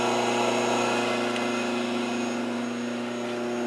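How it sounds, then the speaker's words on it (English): An electric motor on a Wilton 8201 band saw runs without its belts or blade, a steady loud hum with a low mechanical drone that holds unchanged throughout, with no talking. "The motor does run though."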